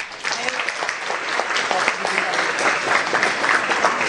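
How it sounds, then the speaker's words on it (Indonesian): Students in a large hall break into dense, steady applause, a loud continuous wash of many hands clapping with faint voices mixed in. "Tepuk tangan dulu dong."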